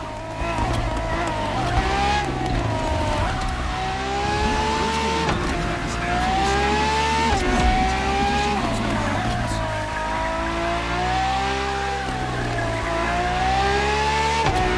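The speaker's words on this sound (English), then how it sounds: "for this second lap, you'll be driving the FXXK" A Ferrari FXX-K supercar racing in The Crew Motorfest, its high-pitched engine wailing loud and steady as it climbs through the gears, with repeated rising pitches broken by shifts and brief tire squeal.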